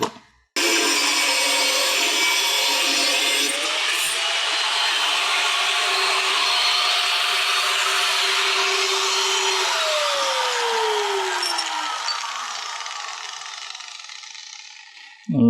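A power tool cuts a 3 cm piece for a homemade slingshot dart, giving one loud, steady whining grind for about fifteen seconds whose pitch sags partway through before it stops.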